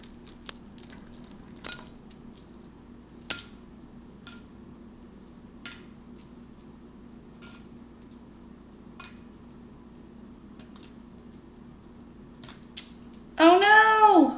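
Metallic coins clink one at a time at irregular intervals into a small floating boat, sharp and close, over a faint steady hum; a voice exclaims briefly at the end.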